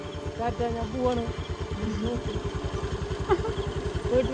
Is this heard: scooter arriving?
yes